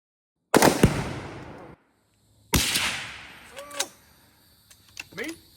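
Rifle shots at an outdoor gun range, two sharp loud reports a couple of seconds apart, each followed by a long echoing decay, with brief voices afterward.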